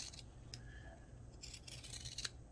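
Scissors snipping through fabric while trimming a sewn mask, a few quiet crisp cuts spaced irregularly over a low background hum.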